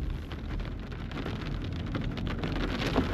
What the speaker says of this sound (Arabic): بدأت بغزارة مطر الآن